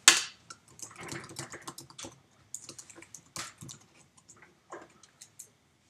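Keys clatter on a computer keyboard as a text message is typed into After Effects CS5, with a sharp first click followed by quick, uneven keystrokes at close range and no talk.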